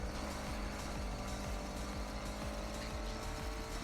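A badly wrecked car with a totaled body drives in the racing game Need for Speed Heat, its engine a steady, rough drone with a rattling, periodic thump and no pauses.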